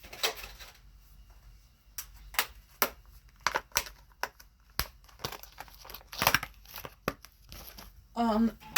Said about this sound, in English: I used some scissors to cut them because I don't have a knife.